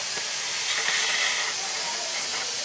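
Air hisses steadily out of a flat car tire, a close, continuous high-pitched rush with small fluctuations and no talk.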